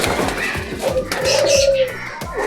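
Pondicherry katta mooku homer pigeons coo nearby in a loft, soft repeated throaty calls with one longer drawn-out coo, against light background rustle and distant chatter.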